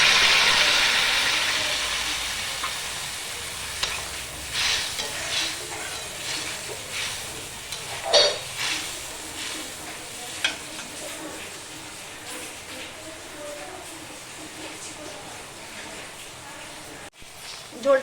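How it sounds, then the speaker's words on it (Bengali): A thin bata fish curry broth with potato, papaya and beans boils in a pan, giving a steady close hiss and bubbling sizzle broken by occasional scraping stirs. "ঝোলটা আমার ফুটে উঠেছে"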